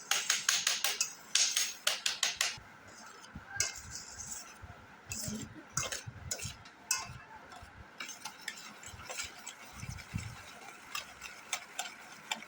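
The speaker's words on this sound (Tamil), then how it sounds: "So we should mix the brown sugar and curd." Brown sugar and curd are mixed in a bowl, with a quick run of spoon clinks against the bowl followed by softer, irregular stirring taps.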